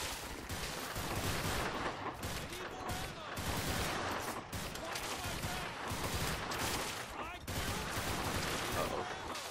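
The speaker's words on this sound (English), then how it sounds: "Keep firing at him." Rapid SWAT gunfire in the Garry's Mod video game, dense and loud, firing almost without pause in sustained bursts that fill the whole stretch.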